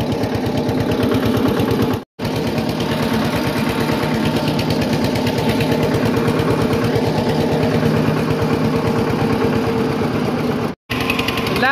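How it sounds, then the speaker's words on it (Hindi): A roughly 70-year-old tractor engine idles loudly and steadily, its rapid knocking putter repeating evenly with no talk, briefly cutting out twice. "देखो रे 70 साल पुराना ट्रैक्टर"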